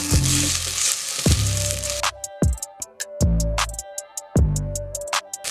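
Loud sizzling of chopped onion and ginger-garlic paste frying in hot oil for mutton biryani, with repeated sharp clinks of a utensil stirring against the pan.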